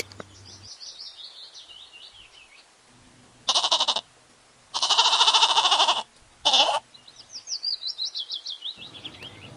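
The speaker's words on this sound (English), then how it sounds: "G for goat." A goat bleats three times in short, loud bursts, the middle call longest, while birds chirp and tweet faintly before and after.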